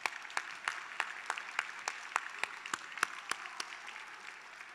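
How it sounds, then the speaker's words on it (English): Audience applause at the ACC Spirit of Entrepreneurship Awards 2024, honoring sponsors: a steady wash of many hands clapping, with some sharper individual claps standing out, moderately distant and sustained with no talking. "we would like to please give them a round of applause"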